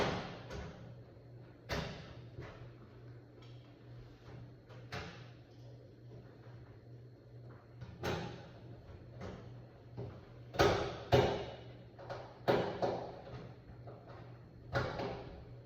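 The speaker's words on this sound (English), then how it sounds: "Now I'm gonna put the door back up here." A microwave oven door is fitted back onto its hinges and shut, producing a series of sharp clicks, knocks and thuds spaced irregularly, growing busier toward the end, close and fairly faint.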